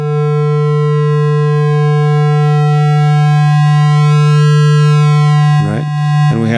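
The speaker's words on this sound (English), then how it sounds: "we have a pitch control here on channel 2 of select 2, controlling the pitch of the oscillator" A Joranalogue Walk 4 and Warp 1 modular synth oscillator holds a loud, steady, harmonically rich drone that shifts slowly, then breaks into brief warbling pitch sweeps near the end.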